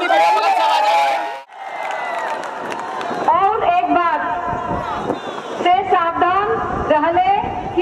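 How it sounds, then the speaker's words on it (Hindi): A noisy outdoor crowd at an election rally in Dohrighat, with dense overlapping voices, shouting and chanting filling the space loudly and continuously, with a brief dip partway through. "कितनी भीड़ बगल से आवाज आ रही है।"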